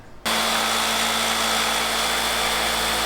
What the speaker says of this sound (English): Now I'm going to drill one last hole so I can get my jigsaw blade in there